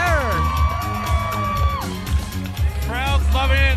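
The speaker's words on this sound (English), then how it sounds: "Oh! Look at that, the fans are going crazy." An outdoor wrestling show crowd, with families and children, cheers, whoops and shouts steadily throughout. Voices rise in higher excited yells near the end, and commentary talk runs underneath.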